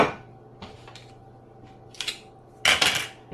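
Raw pork chops, meant for a spicy bacon and cheese stuffing, are set down on a cutting board: a few light knocks, then a louder clatter near the end, with quiet between.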